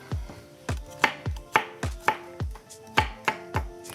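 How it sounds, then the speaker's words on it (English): Large peeled garlic cloves minced with a knife on a cutting board, a close series of about ten sharp, evenly spaced chops, each a crisp knock with no talking. "I'm gonna mince this up"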